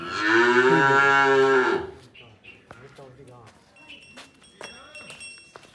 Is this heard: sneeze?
no